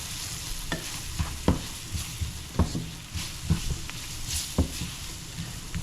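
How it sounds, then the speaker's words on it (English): Spoonful of flour stirred and cooking into leftover chicken pie filling in a pan, a steady sizzle with repeated scraping knocks of the spoon at an irregular rhythm, close and fairly loud. "I'm going to put a spoonful of flour now, just to thicken it up a little bit"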